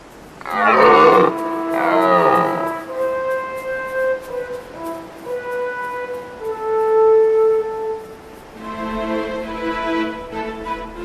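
Red deer stags in autumn mountains give deep, drawn-out bellowing roars loudly at the start, followed by sustained harmonic tones and another roaring call near the end, all without speech.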